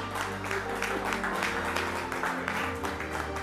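Audience at a youth entrepreneur competition final applauding the candidates, a brisk round of many hands clapping with music or crowd murmur underneath.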